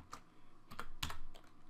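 Router command typed on a computer keyboard, with a few soft, separate key clicks close by and quiet, about four presses spread over under two seconds.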